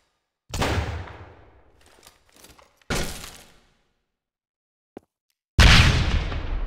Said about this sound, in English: Use your shotgun and clear with a bang.